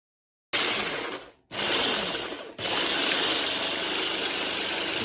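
Eggs being whisked for French toast until fluffy, a dense continuous scraping whir that starts after a short silence, breaks off twice briefly, then runs steadily and close.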